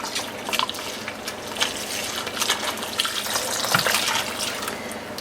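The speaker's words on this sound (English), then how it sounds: "I'm going to add 2 cups of milk" Two cups of milk poured into a pot of cream of mushroom soup, making a steady close liquid splashing and gurgling that continues for several seconds at moderate loudness.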